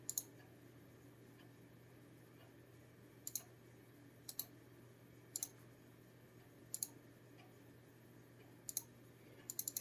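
A computer mouse clicks now and then, sharp and faint, in single and double clicks over a quiet background hum.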